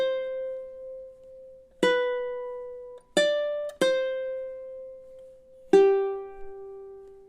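Ukulele picking a tune from The Legend of Zelda, measures 17 to 20: a slow line of five bright plucked notes with long sustains, close and unaccompanied.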